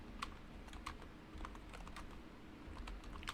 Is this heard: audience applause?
no